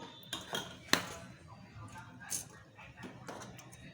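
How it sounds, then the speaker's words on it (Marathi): Rice kheer is ladled from a pot into a bowl, with a few light metallic clinks and taps of a spoon against the vessels, close and fairly quiet. "आता आपल्याला ही खीर वाटीमध्ये काढून घ्यायची आहे"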